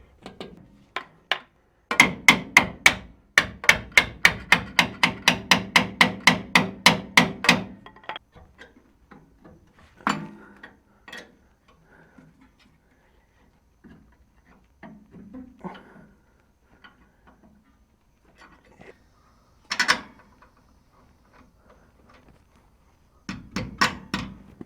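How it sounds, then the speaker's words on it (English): Rubber mallet tapping a Bilstein 4600 shock into place on a first-generation Toyota Tundra, a fast run of about twenty evenly spaced knocks, followed by scattered quieter clunks and a couple of isolated sharp taps later on. "I'm just going to tap it in with a rubber mallet"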